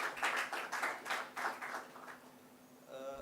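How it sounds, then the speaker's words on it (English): A lecture audience on the Zafarnama of Guru Gobind Singh claps for a speaker, a steady round of applause that fades out over a few seconds, with a faint voice at the end. "another round of applause for him"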